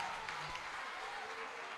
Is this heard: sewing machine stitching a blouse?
no